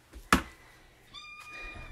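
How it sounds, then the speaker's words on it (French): A cat meows once in a drawn-out, tonal call near the end, after a sharp knock and low clatter earlier, heard alone in an indoor craft setting. "Elle est si cute quand elle miaule, hein, trouvez-vous?"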